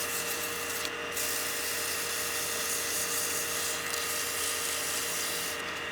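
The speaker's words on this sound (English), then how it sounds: "lightly sand that bead with the 320" A wooden whistle spinning on a lathe is lightly sanded at a bead with 320-grit paper, making a steady, close, unbroken abrasive hiss with a couple of brief brighter scrapes.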